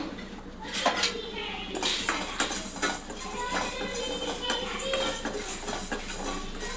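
Coriander seeds dry roasting in a pan with cumin seeds about to go in, with close metallic scraping and clinking of a spoon against the pan over a steady rustle, busy and continuous, and a voice talking over it.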